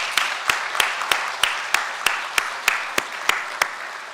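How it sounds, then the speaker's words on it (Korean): Korean church congregation clapping during a Sunday service to welcome a new member, a regular beat of about a dozen sharp, evenly spaced claps over a soft room wash. "우리 뜨거운 박수로 환영하겠습니다"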